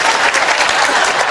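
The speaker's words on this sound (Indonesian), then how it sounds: "Berarti tepuk tangan untuk Cak Nun." Dense, loud clapping from a crowd at an Islamic religious gathering, a continuous wash of applause for Cak Nun lasting the whole brief moment, close and with no voices over it.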